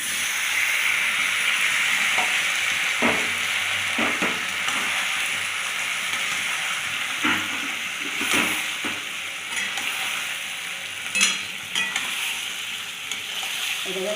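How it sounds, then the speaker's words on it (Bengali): A tomato mixture fries in a kadai with a dense, continuous sizzle, broken by occasional scrapes and clatters of a spatula stirring against the pan. "সুন্দর করে খুব সুন্দর করে লাল করে ভেজে দেবো।"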